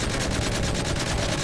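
Dense automatic gunfire in Modern Warfare 3, loud and continuous with rapid overlapping shots filling the whole moment, no talking.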